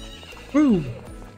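A horse whinnies once in the farming video game Story of Seasons: Friends of Mineral Town, a loud, close, falling neigh of about half a second over quiet game background, with someone talking around it.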